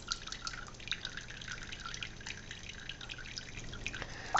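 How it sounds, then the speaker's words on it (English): Pear pulp in a lifted straining bag drips juice during winemaking, a quiet, close series of irregular small drips and trickles over a faint background hum. "Let me hold it up and let it drip for a while."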